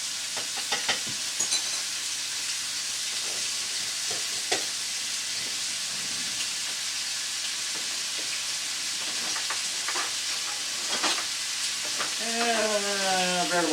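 Garlic sizzles and hisses steadily in a hot pan for jambalaya, with intermittent scraping and clinking as a utensil stirs it, plus a brief voice near the end.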